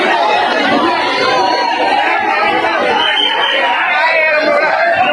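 A large crowd in Mumbai during the Ganesh festival, dense loud babble of many voices running continuously without a break.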